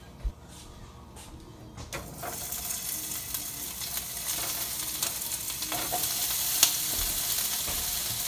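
Food dropped into a hot pan on a stove starts frying, a steady loud sizzle rising after a quiet opening and holding with occasional crackles and stirring scrapes, close up, no talking.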